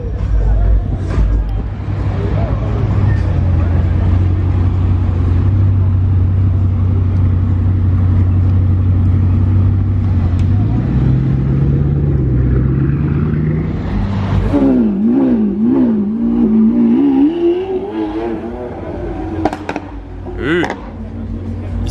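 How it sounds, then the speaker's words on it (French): A Bugatti Chiron being brought back by valets to park in Dubai runs with a deep, loud engine drone that rises as it revs and accelerates, with voices and crowd chatter throughout. "Et là il y a la Chiron qui revient pour être garée en fait devant là par les voituriers."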